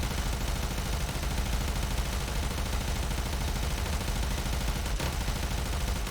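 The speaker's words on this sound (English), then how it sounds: "I'm still going to keep firing" Dense, continuous automatic gunfire from a weapon in the shooter game Warframe, loud and unbroken across the whole stretch with a single sharper crack near the end.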